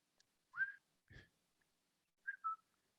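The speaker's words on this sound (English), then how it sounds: "Whistling is much better." A person whistles a few short, clear notes in a quiet room: two brief phrases with a gap between them, the second a quick pair of notes, close and moderately loud with no talk.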